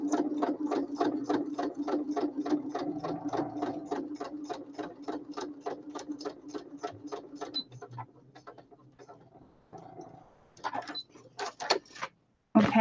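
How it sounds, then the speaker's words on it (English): A sewing machine stitches a junk journal page with sari silks, a steady rapid run of needle strokes that slows, stops, then starts again in short bursts near the end, close and fairly loud. "I'm going to do a quick stitch just down here, making sure I don't pull into anything on the other side."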